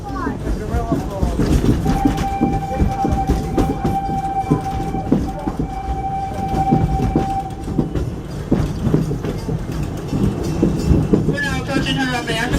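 Wildlife Express train at Disney's Animal Kingdom rolling along with a steady rumble and rail clatter, a sustained whistle tone ringing out for several seconds, while passengers chat nearby.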